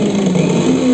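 Motorcycle engine at a Ramoji Film City sound-effects demonstration in Hyderabad, a steady mid-pitched running drone with a slight rising tone, loud and continuous throughout.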